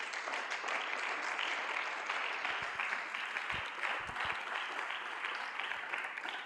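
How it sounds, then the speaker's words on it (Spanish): A church congregation claps steadily, a dense and continuous round of applause at a moderate level with no voices rising above it. "Dele un aplauso al Señor, por favor"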